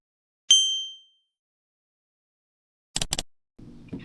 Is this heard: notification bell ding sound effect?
yes